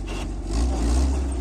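A GAZ-69 engine revs hard while the vehicle is stuck on a tree stump, a low rumbling surge that swells partway through and holds, close by with no talk.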